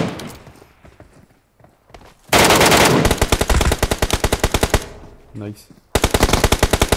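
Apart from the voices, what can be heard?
gunfire in video game PUBG Mobile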